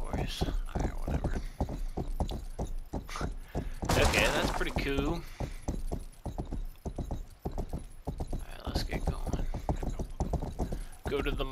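Hooves clip-clop steadily while a white horse is ridden in the video game Rustler, with a burst of gunfire-like noise near the middle and someone talking over much of it.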